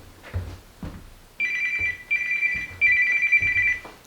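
A telephone rings in a home kitchen where Italian sausage soup is being cooked, its electronic trill sounding in three close bursts, fairly clear, over soft background knocks.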